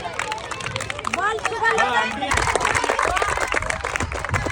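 Students at a school activity day clap loudly for a boy walking on his hands, with a voice speaking over the crowd noise before strong, dense applause and chatter take over.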